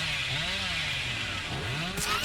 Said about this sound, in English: There's our chainsaw